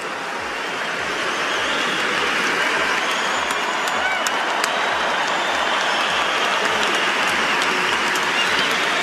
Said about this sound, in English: Asking the crowd for even louder applause, Shapovalov